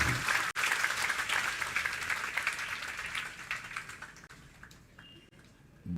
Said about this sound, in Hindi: ताली बजाते जाओ अपने लिए।